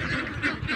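Farm ducks quack in a steady run of overlapping calls, fairly close and continuous, with no talk.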